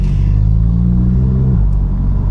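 A Volkswagen Golf 7 GTI Performance with a DSG gearbox holds a loud, close, low engine rumble, and the pitch eases slightly before settling into a steady idle.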